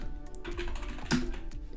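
Quick, close clicking keystrokes on a computer keyboard, a brisk irregular patter of taps with no talking.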